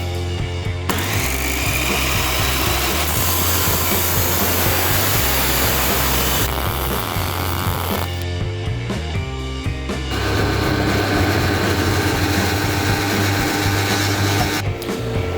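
A power tool cutting a piece of timber for a DIY automatic gate, a loud continuous whining drone that runs for long stretches, pauses briefly, then starts again.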